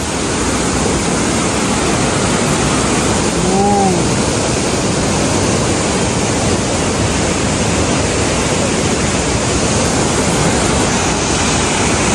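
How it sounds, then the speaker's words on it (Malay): A loud, constant roar of rushing water from the Lasir waterfall at Kenyir, Malaysia, fills the scene, broad and unbroken, with a faint brief voice-like tone in the middle. "nampak lah air terjun."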